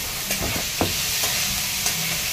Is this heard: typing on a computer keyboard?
no